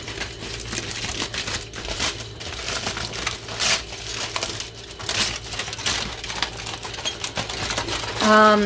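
Reused tin foil being crumpled and crinkled by hand, a dense run of crackling rustles that continues throughout, fairly close, with a brief louder crinkle near the end.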